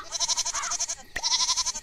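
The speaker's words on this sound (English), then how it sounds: "Pet the pig goat." A pig goat in the farming game Moonlight Peaks bleats in a rapid pulsing, wavering cry, close and clear, briefly broken by a short sharp click before the trembling call resumes.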